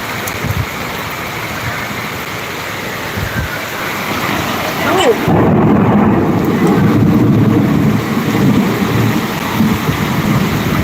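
Heavy rain pours down onto a flooded street as a dense, steady roar that swells louder midway, with a voice speaking over it at times.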